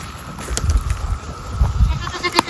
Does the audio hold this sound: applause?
no